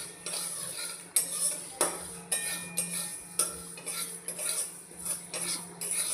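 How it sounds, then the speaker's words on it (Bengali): Dry-roasting panch phoron and mustard seeds in a wok for sukto, with a utensil scraping and clinking against the metal in a steady rhythm of repeated strokes, close and fairly loud, with no talk. "কড়াইতে একটু নাড়তে থাকবো"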